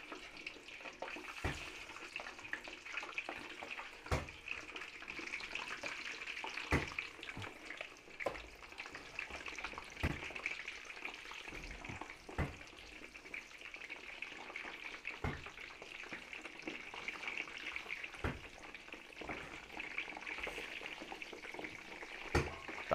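Pork pieces frying in hot oil sizzle and crackle continuously at a steady level, with occasional sharper pops and clatters breaking through.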